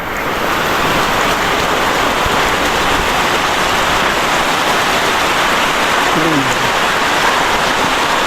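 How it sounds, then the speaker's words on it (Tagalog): Heavy typhoon rain pours down steadily outside a house during Typhoon Pepito, a loud, dense and continuous roar of water hitting surfaces with no break. "Sobrang power ng ulan."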